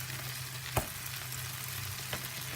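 A block of pressed tofu frying in a greased pan for a vegan breakfast burrito, a soft steady sizzle with a couple of light utensil taps, quiet and brief, no talking.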